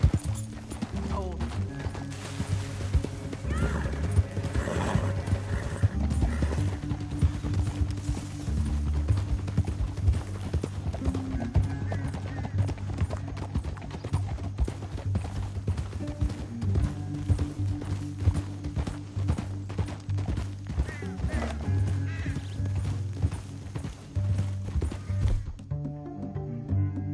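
Horses gallop through a canyon, their hooves clattering in quick rhythmic clip-clops, with music and occasional voices mixed over the pounding.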